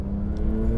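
A Porsche 911 Turbo S (992 or 991.2) launching in a drag race in manual mode, locked in third gear with sport settings, gives a loud, steady engine roar and whir under hard acceleration.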